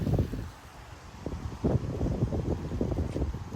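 Strong 30 mph wind gusts sweep through a Frisco, Texas neighborhood, producing a low, buffeting rumble against the microphone that swells and eases in waves, with a faint rustle of moving trees.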